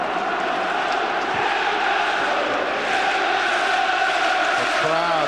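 Football crowd at Newcastle United's ground during a 1997 Champions League match against Barcelona, a dense continuous roar of cheering and chanting from a large stadium audience, steady and loud throughout.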